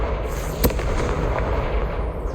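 In Hogwarts Legacy, a Confringo fire spell goes off in one sharp, loud blast, followed by a rumbling crackle that fades over the next couple of seconds.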